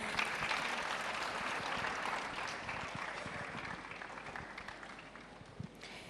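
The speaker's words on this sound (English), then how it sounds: "A round of applause." Steady applause from an audience at a World AIDS Day ceremony in Rwanda, dense and sustained throughout with no talk over it.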